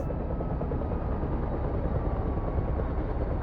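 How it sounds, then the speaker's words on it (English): Main rotor of an EC130 helicopter in a flight simulator game, a steady loud whirring drone with a continuous low throb, constant and unbroken with no voices. "Nice rocking animation as the main rotor shakes the airframe on the ground."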